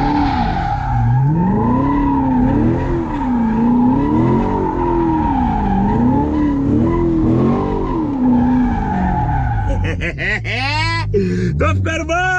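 A Corvette drifting with its tires skidding, a loud continuous squeal that wavers up and down in pitch over the engine's roar for about ten seconds, then breaks into choppy, stuttering screeches near the end.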